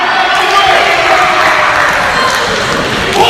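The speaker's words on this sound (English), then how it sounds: "The crowd getting behind the Columbus native, Matt Taylor." A wrestling event crowd cheers loudly and continuously, a dense roar of voices filling the arena without a break.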